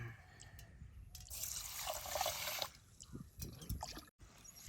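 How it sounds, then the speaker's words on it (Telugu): Soaked basmati rice being washed by hand in water outdoors gives soft sloshing and trickling, with a brief louder pouring rush in the middle, fairly faint and close. "బియ్యాన్ని అయితే చక్కగా 3 సార్లు వాటర్‌తో కడుక్కొని నానబెట్టుకొని"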